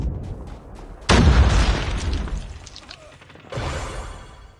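A frag grenade detonating in a video game: sudden loud close blast with a long rumbling decay, followed by a second smaller burst near the end.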